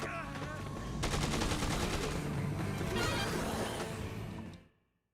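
Enemy gunfire in Dead Rising 2, loud rapid bursts of automatic shots crackling for about four seconds before cutting off abruptly.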